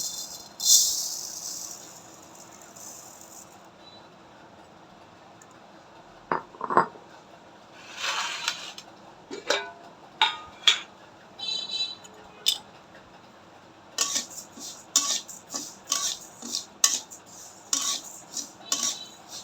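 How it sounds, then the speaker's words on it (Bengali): Polao rice grains are dry-roasted and stirred in a hot kadai on a stove, giving intermittent scraping, rattling and metallic clinks, quiet stretches broken by clustered bursts of stirring. "এবারে পোলাওয়ার চালগুলো আমি লাল লাল করে ভাই নিব"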